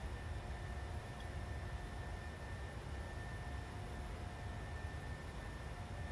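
A simulated airliner climbs out after departure from Quebec in a flight simulator, a faint steady engine drone and rushing cabin noise with a thin high whine, unbroken and without talk.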